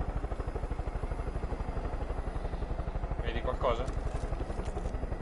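Rotor thump of a helicopter in the video game Far Cry 5, a steady rapid chopping beat running throughout at close range, with brief bursts of other game noise partway through.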